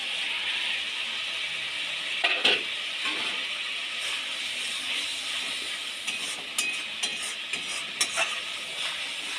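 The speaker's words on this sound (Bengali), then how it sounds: "এবার আমি ভেজে রাখা আলুগুলো দিয়ে দেব" Potatoes fried earlier are added to gluten masala that is already frying in a pan. A steady sizzle hisses throughout, with a few soft stirring clatters near the middle and toward the end. No one speaks.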